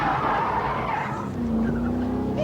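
A Top Gear test car, an Ascari, skids as its rear breaks away on a wide expanse of tarmac, giving a loud continuous tyre squeal over a roaring engine for a couple of seconds, with no talk.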